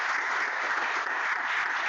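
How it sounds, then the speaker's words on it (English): Steady, dense applause from an audience closing an online panel session, a continuous wash of clapping at even loudness throughout with no voices on top. "Big round of applause to our great panel."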